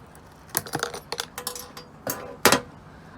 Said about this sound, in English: We're going to cut that wire so it's not in the way.